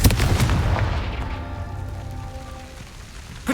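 Confringo blasting spell going off in the Hogwarts Legacy video game: a loud, booming burst at the start that rumbles and fades over a few seconds into a trailing magical shimmer, with a fresh hit returning at the end.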